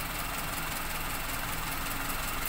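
A cold Toyota Kijang carburetor engine idles low and steady, a continuous close rumble with a faint knocking texture and no voices over it.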